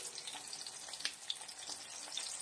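Tomatoes, ginger and green chilies frying in oil, a faint, even crackling sizzle with small pops, continuous and fairly distant.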